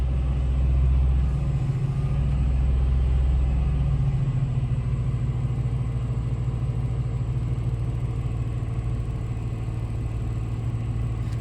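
Chevrolet Silverado pickup, 1999–2006 generation, parked outside on a cool North Carolina day, its engine running at a steady low idle rumble, close and even throughout with a slightly heavier start.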